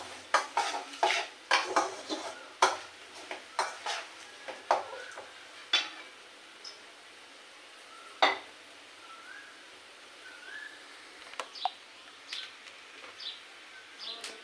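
A pot of food is being stir-fried: repeated metal spatula scrapes and clinks against the pot come in irregular bursts over a faint, low sizzle, heard close with no talking.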